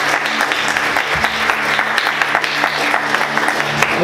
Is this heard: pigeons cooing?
no